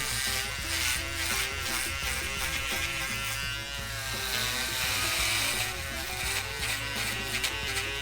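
Wahl electric hair clippers buzz steadily up close while cutting hair on the side of the head, with brief changes in tone as the blades pass through hair.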